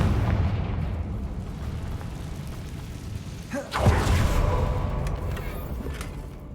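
A fiery Confringo spell blast goes off in the Hogwarts Legacy game, a single sharp burst near the middle landing over a steady rumbling game ambience.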